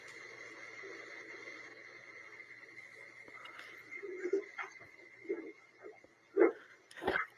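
A dog barks a few times in quick, short bursts toward the end, over a quiet room hum.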